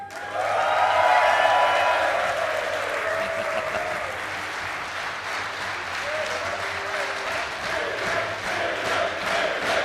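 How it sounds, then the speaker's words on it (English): A large crowd applauds steadily throughout, with some cheering mixed in, at a prize presentation for a series champion at a race meeting. The clapping swells early and then stays dense and continuous. "That's why they're clapping."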